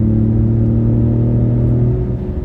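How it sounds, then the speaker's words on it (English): Ford F-150 Raptor pickup exhaust under hard acceleration at highway speed, a steady deep droning rumble from inside the cab that eases slightly at the end. "You hear the exhaust when you accelerate."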